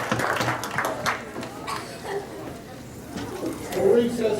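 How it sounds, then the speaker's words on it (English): Scattered audience clapping at a school board of education meeting, loudest at the start and then thinning out, with people talking over it. "One more round of applause."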